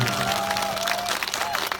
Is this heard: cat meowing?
no